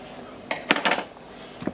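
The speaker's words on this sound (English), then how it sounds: "I will lift the spot welds here with the knife" A knife blade scraping and prying up spot-welded nickel strips on a Milwaukee M18 power tool battery pack: a few short, close metallic clicks and scrapes in a brief cluster, then a faint tap, no talking.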